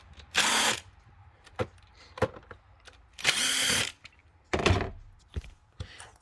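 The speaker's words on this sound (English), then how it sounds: "grab your Torx T30 bit, pull your cover off here" Tool with a Torx T30 bit removing the engine cover screws on a 2.5-liter engine: short bursts of power-tool whirring spaced by clicks, ratchet-like taps and clatter of parts, close and fairly loud.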